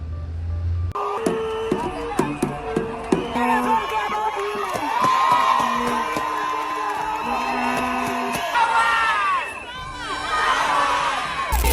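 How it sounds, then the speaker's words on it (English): Protesters at a rally against femicide shout and chant together, a dense, sustained crowd roar with sharp whoops and rising cries, loud and close throughout. "Who are they shouting at?"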